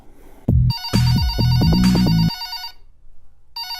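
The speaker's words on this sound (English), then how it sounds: "I think it's a video call." An electronic video call ringtone chimes in a rapid melodic pattern, loud and close, then stops and briefly starts again. No one speaks.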